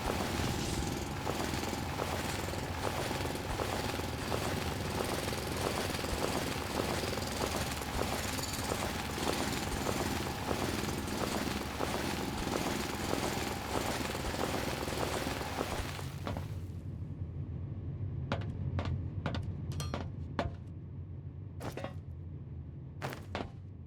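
Rock drilling in the factory-building video game Foundry gives a loud, steady mechanical roar for about sixteen seconds. It then stops abruptly and is followed by a few sharp clicks and thunks.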